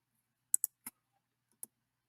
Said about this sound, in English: I can either press G on my keyboard